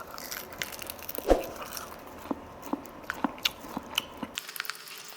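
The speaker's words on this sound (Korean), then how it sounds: "윙을 한번 먹어보도록 하겠습니다." Someone bites into a Kyochon soy-glazed fried chicken wing with a crispy coating, giving one loud crunch followed by a series of close, rhythmic chewing crunches and soft squishes.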